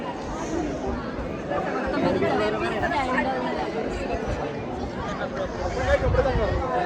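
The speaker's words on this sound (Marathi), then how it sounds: "गर्दी वाढत चालली आता." Devotees chattering at the crowded Ekvira temple in Karla near Lonavla, a dense babble of many overlapping voices close by and steady throughout.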